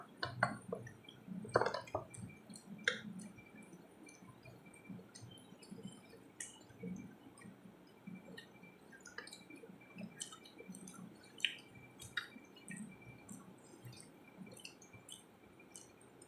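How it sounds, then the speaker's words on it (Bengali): Cooked rice is squished and mixed by hand at a home meal. Soft, wet squelching and sticky smacks repeat faintly and irregularly, close by in a quiet room. "এই যে ছেলের ভাত মাখবো আমি।"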